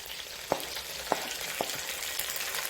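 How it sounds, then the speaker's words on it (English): Tomatoes go into a pot of cooking onions for chicken stew, giving a continuous low sizzle with three soft, evenly spaced clunks from the pot. "So right now I'll add the tomatoes and then cover"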